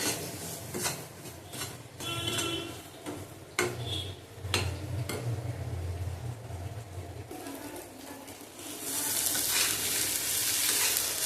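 Bottle gourd peel and prawn head mash fry in a pan with loud continuous sizzling, while repeated scraping stir strokes sound close by and the frying hiss swells toward the end.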